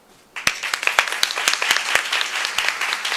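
Applause breaks out suddenly from an audience at a plenary on women leaders in tax law, starting with sharp individual claps and swelling into a steady, fairly close patter of many hands.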